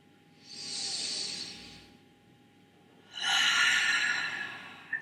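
Two deep breaths during a beginners' stretching session, a long airy inhale then a stronger, louder exhale after a short pause, close and alone with no talk.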